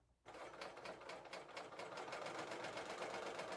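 A serger sewing machine runs steadily, stitching and trimming a strip off the edge of fabric with a fast, even mechanical whir that starts abruptly and continues close-up.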